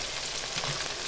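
Eggplant frying in a pan of oil for a fish curry, a steady, dense sizzle that stays even and close with no talk over it.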